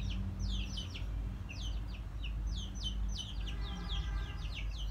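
Aseel rooster clucking and chirping in short repeated bursts over a steady low background hum, fairly close and moderately loud.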